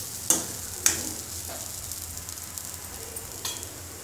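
Carrots fry in a pan with a steady low sizzle, broken by a few sharp clicks from stirring or a utensil against the pan. No voice is heard.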